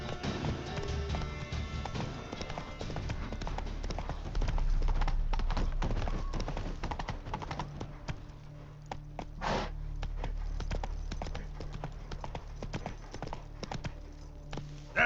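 Geralt's horse Roach gallops in The Witcher 3 video game, a continuous rolling clip-clop of hooves under game music and ambience, fairly quiet and steady.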